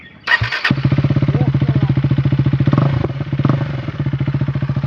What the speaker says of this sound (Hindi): ये देखो एग्जॉस्ट खुल चुका है पूरा।